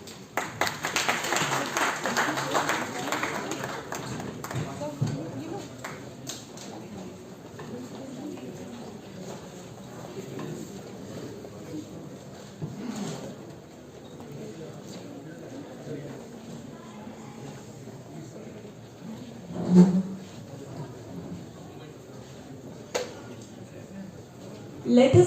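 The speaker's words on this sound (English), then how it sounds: "Let us continue clapping, everyone." Audience applause at a conference inauguration ceremony, a steady spread of clapping from a crowd that carries on over the room's ambience and then thins, with a few sharper sounds near the end.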